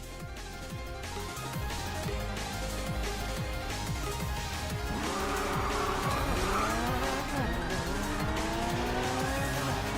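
A Lotus Emira races on a track in the mobile racing game Racing Master, its engine note rising and falling through repeated gear changes while tires squeal through the corners, loud and continuous.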